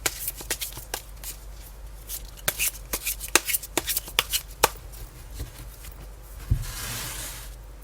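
Tarot cards being shuffled during a reading, a run of quick crisp riffling snaps and soft card slaps in an irregular rhythm, close and moderately quiet, with no one talking.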